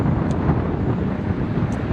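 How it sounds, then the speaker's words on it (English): Steady low rumbling wind buffeting a microphone while riding an e-bike, loud and continuous throughout with no voices. "it's getting pretty windy though, so my voice is probably getting drowned out a little bit"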